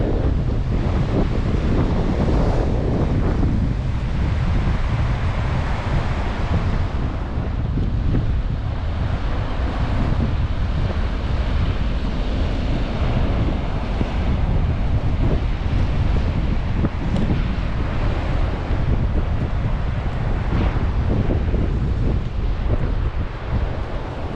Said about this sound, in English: Just arrived at Perranporth Beach.